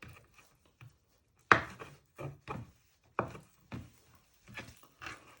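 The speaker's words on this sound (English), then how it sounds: "slice all your meat up using your sharp knife" A sharp knife cuts through lamb meat on a wooden chopping board, giving a handful of distinct, irregular chops and thuds. They sound close and fairly quiet, with near silence between strokes.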